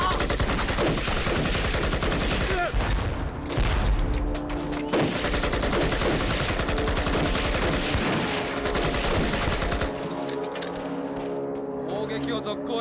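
Dense gunfire from a war-film battle scene, with rapid machine-gun bursts and rifle shots crackling loudly and continuously under shouted voices, the barrage easing near the end.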